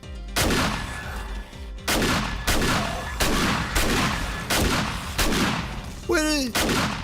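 Repeated gunshots in the game 7 Days to Die, about eight loud sharp blasts at irregular intervals, each with a short decaying tail, and a brief voice exclamation near the end.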